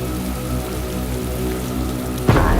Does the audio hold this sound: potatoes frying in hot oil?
no